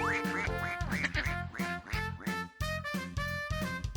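Ducklings quack over and over in a steady, busy stream, close and loud, with no talking.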